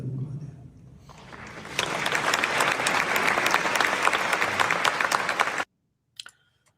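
An audience breaks into loud, sustained applause after a speech, with quieter murmuring before the clapping swells. It stops abruptly, and a couple of faint scattered claps follow.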